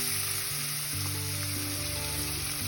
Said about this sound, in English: We're going to put in our red onions. Then we're going to give it a nice little stir